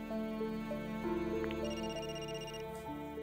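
A telephone rings in the video game Another Code Recollection, a short electronic ringtone of clear, sustained tones and melodic pitch steps, alone without talk.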